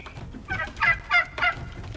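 Turkeys gobbling in the video game Soulmask, a quick run of four or five warbling gobbles close up over a quiet background.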